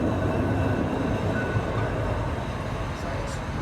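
Blackpool tram number 701 rumbles past on the tramway, a steady, loud low roar of wheels and motor that holds for a few seconds before easing slightly, with no one talking.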